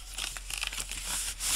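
Paper being folded and creased by hand for a Christmas scrapbook album, soft close crinkling and rustling with small pressing sounds, brief and quiet with no talk.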